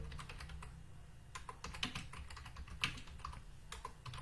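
Quiet, rapid clicking of keys on a computer keyboard, an irregular run of keystrokes close by, with a few slightly louder taps.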